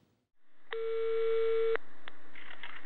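Telephone line tones while a call is being placed: a steady electronic tone holds for about a second, then a short blip follows, alone and fairly quiet on the line.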